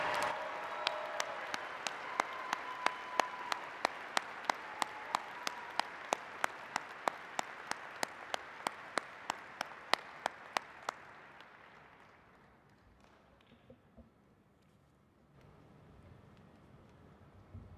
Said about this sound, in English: Let's give them a huge round of applause for returning to the University of Northern Iowa